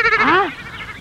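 Goat bleating in a Tamil comedy film scene, one loud, close, wavering bleat that rises and then falls away, followed by quieter background noise.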